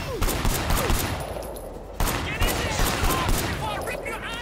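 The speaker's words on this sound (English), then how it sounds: "Got some gun action now." Loud gunfire crackles in the Sleeping Dogs video game, rapid bursts and volleys repeating throughout with a short break in the middle.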